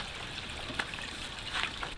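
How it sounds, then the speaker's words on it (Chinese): Water flows gently in a newly built stone courtyard fish pond, a soft, steady trickle and babble heard alone at low, even loudness, with a few slightly brighter splashes. "现在这个院子里面开始有这个流水的声音了"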